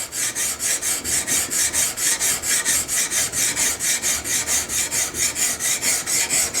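A wooden gun stock being scraped and rubbed to remove marks, a loud, close rasping stroke repeated in a steady, even rhythm of about three strokes per second, with no voices.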